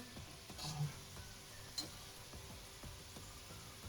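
Taro root (arvi) frying in oil over a medium flame gives a faint, steady sizzle with scattered small crackles and pops, and no voices.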